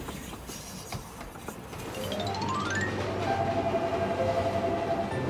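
A cartoon train rumbles along steadily, growing louder midway, with rising whistle-like tones sweeping up and a sustained horn note that holds near the end.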